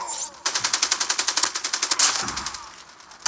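Automatic gunfire in the video game Call of Duty: a rapid burst of about sixteen evenly spaced shots, loud and close, followed by a louder blast and a fading tail before another shot begins.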